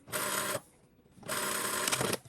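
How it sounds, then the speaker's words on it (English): Two bursts of a sewing machine stitching the side seams of a bustier dress at a 1 cm allowance, each run about half a second long and separated by a short pause, close up and fairly quiet. "align the side seams, and sew them together at 1 centimeter"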